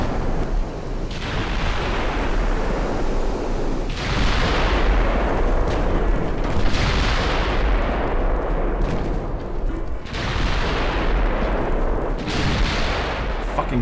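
Warship secondary guns in Ultimate Admiral Dreadnoughts fire in heavy, continuous booming salvos, loud and rumbling, with repeated blasts every couple of seconds over a constant roar of battle.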